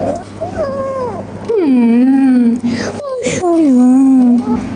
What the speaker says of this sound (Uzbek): Mehmonxonamizdagi eng qaysar va eng erkatoy mushuk.